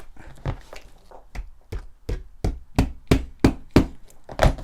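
A stapler drives tacks into the upholstery of a stool, about a dozen sharp percussive clacks at an irregular, quickening rhythm, loud and close with nothing else heard.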